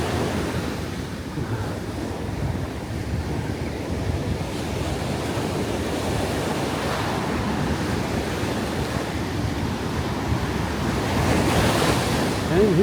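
Cold ocean surf rolls onto the beach at Long Beach Island on a misty day, a continuous wash of breaking waves with wind noise over it, and no one speaking.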